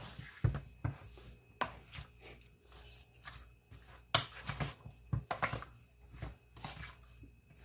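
Food seasoned with onion powder gets mixed in a kitchen: intermittent clinks, scrapes and soft clatters of a utensil against a dish, uneven in rhythm and close by, with no talking.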